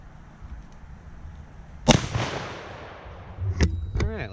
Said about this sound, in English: we have the 12 gauge with a 1 ounce slug